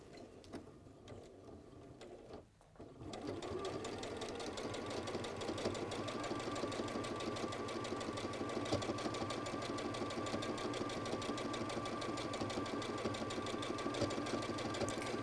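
A sewing machine stitching fabric: a brief quiet start, then a steady, rapid mechanical whir and clatter that runs evenly and close for the rest of the clip.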